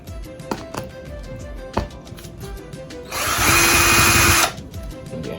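A power drill drives a screw into a DIY wooden headboard in one loud whirring burst of about a second, after a few scattered knocks and handling taps.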